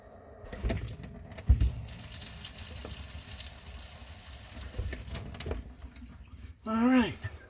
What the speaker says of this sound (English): now we got to go upstairs and run the water